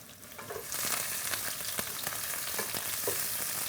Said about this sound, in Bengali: রান্নাঘর মানে পেঁয়াজের এই আওয়াজ